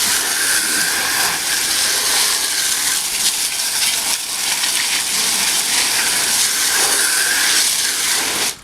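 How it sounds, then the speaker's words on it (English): Garden hose spray hits a tire and wheel being rinsed of Purple Power degreaser, a steady, loud, broadband hiss of rushing water that runs without a break until it cuts off at the end. "you want to definitely make sure you hose off the wheel too"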